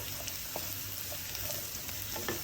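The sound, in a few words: mushrooms frying and being stirred in a pan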